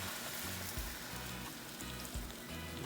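Coconut milk hits a hot pan of Jamaican-style salmon curry, giving a steady, soft crackling sizzle with faint bubbling pops throughout, fairly quiet and heard on its own.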